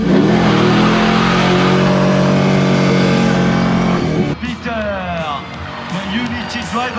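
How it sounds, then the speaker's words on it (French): A drift car on the French F1 Grand Prix circuit revs hard at a steady high pitch while its tyres smoke, then cuts off abruptly into a crowd-like wash with a voice talking over it. "On va faire fumer les pneus sans les éclater"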